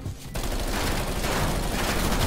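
Automatic fire from the Bullfrog gun in a shooter video game: a dense, continuous burst of rapid shots running loud and steady after a brief quieter start, with no talk over it.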